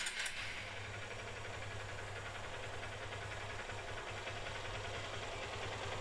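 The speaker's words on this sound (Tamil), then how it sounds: "நீங்கள் கேளுங்க இன்ஜின் நாய்ஸ் எப்படி இருக்குதுன்றது." A Honda Unicorn motorbike engine idles steadily after valve clearance adjustment, a smooth continuous low hum with a faint ticking texture at close range, alone without talk.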